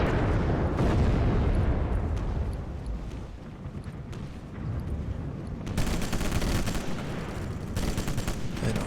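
Soldiers trade gunfire in a Sniper Elite video game: a dense, rumbling stream of shots and blasts, mostly at a distance, with sharper, brighter bursts near the end and no talking.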